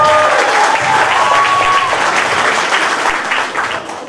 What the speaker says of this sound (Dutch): Applaus voor Chun.